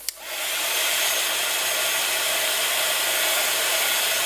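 A hair dryer blowing steadily on a fresh watercolor cactus painting, a loud constant whooshing roar that starts abruptly and holds unbroken, close by with no talking.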